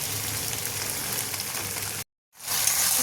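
Paneer roll filling with soy and tomato sauces sizzling steadily in a hot pan, a dense close frying hiss that cuts out briefly and then resumes.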